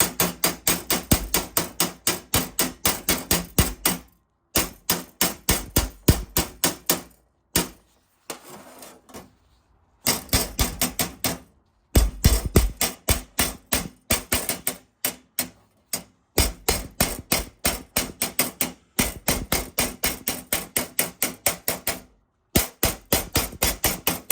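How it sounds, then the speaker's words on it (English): Hammer chipping slag off a fresh stick weld made with a Riland 160MMA welder, rapid sharp metallic taps in bursts separated by brief pauses, close and crisp; no talk. "Let's get the slag off."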